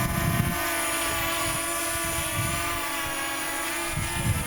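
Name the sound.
small drone propellers hovering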